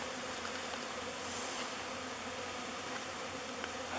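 A dense swarm of honeybees hums steadily around a log hive, a continuous loud buzzing wall with a few individual bees passing close, and no voices.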